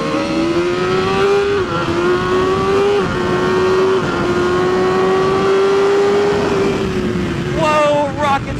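A BMW FP5 racing motorcycle at speed on the Mission Raceway track gives a loud, close, continuous engine drone, its pitch climbing and dropping slightly through gear changes before falling away near the end.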